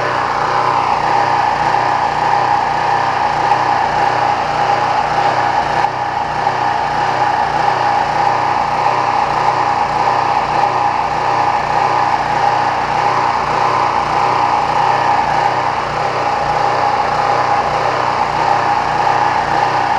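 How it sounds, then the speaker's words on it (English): Small gasoline engine with the choke set, running steadily to burn the remaining gas out of its carburetor, a loud continuous buzzing drone held close without pause and with no voices. "So I do this to run all the gas out of the carburetor."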